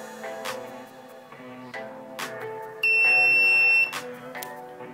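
A simple buzzer in a transistor latch switch circuit sounds once as a single loud, steady electronic tone lasting about a second, set against faint background sounds.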